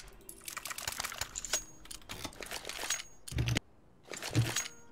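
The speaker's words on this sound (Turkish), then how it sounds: "Klavyesinden çok ses geliyor." Loud, rapid clacking from a computer keyboard during an online match, with dense keystroke bursts for about three seconds, a short gap, then more hard key hits.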